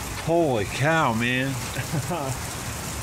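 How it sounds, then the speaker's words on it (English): Steady rain falling outdoors, a constant hiss of drops on surfaces underneath a man's excited exclamations throughout. "Look at it rain."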